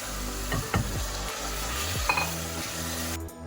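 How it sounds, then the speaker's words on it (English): Steady sizzling of meat frying in a pressure cooker, with a few scraping stirs and a light metal clink, no voices. "Then add the meat to the pressure cooker."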